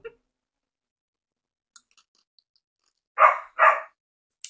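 A dog gives two quick, sharp barks in close succession after a long stretch of near silence, broken only by a few faint clicks.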